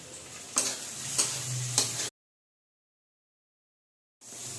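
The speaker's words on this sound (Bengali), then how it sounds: "এই দেখুন, মশলাটা ভাজা হয়ে গেছে, সবজিটাও নরম হয়ে গেছে।" Vegetables with salt, turmeric, green chilli, tomato and ginger frying in a pan, a steady close sizzle broken by a few sharp stirring knocks, then cut off by silence before the sizzling resumes.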